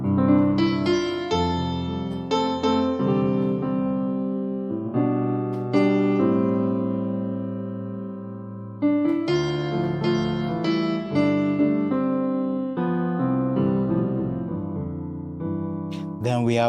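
A rich sampled piano from a Kontakt plugin, using the diggy ground preset, plays sustained full chords with a few flourishes, loud and resonant throughout with no voices over it.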